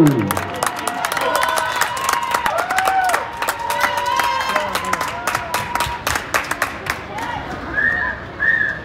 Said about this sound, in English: Let's give a big round of applause for the Bollywood Dance Show!